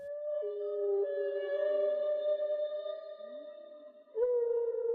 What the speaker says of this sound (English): The songs of the Humpback Whale.